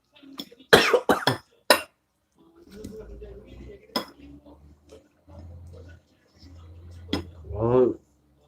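A burst of throat-clearing coughs up close while eating sweet-and-spicy fried chicken, followed by soft clinks of cutlery and dishes, and a brief voiced sound at the end.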